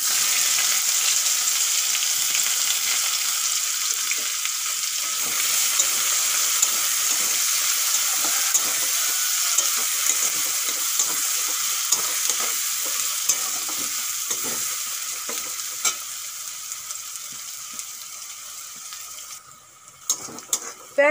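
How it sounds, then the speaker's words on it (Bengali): Onion fries in hot oil with whole garam masala, cumin and a bay leaf, a loud steady sizzle with frequent spoon scrapes and clinks, easing slightly toward the end, no talking. "পেঁয়াজ ভালো করে ভেজে নিয়েছি"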